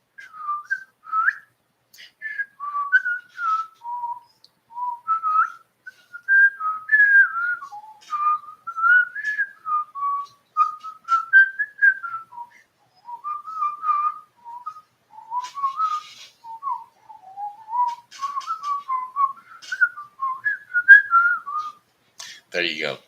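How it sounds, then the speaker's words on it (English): A person whistles a wandering, melodic tune with dentures in, in short breathy phrases separated by brief pauses, close and fairly clear, ending with a quick noisy burst. "I could whistle with these teeth in if I can get my mouth wet enough"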